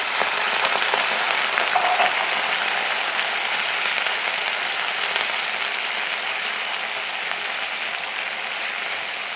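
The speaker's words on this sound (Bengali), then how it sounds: "আমি এখন পানি দিয়ে দিচ্ছি।" Water is poured into a hot pan of peanuts being cooked for a pangas fish curry, giving a steady, loud broadband hiss and sizzle that holds evenly for the whole stretch with no talking.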